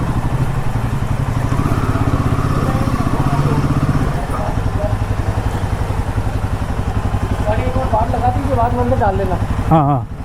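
Royal Enfield Himalayan 450 motorcycle engine running steadily and loudly throughout on a ride from Jaipur to Bikaner in the Thar Desert, with voices talking over it near the end.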